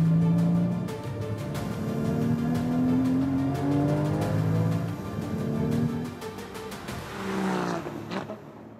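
A Porsche Cayman GT4 with a 3.8-litre flat-six and six-speed manual drives hard, its engine note rising and falling through repeated revs and gear changes, loud and close, with a final sweep upward before fading.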